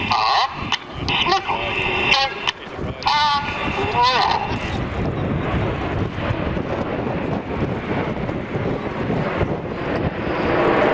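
Display team aircraft pass at the Old Warden flying festival, a broad roaring rush of engine and wind noise that swells and holds. A commentator's voice and crowd sounds are heard over the start.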